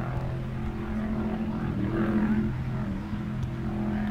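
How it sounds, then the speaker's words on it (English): A loud racing speedboat runs on the water close to shore with a steady engine drone that holds throughout, without talk over it. "It's a boat, a speed boat."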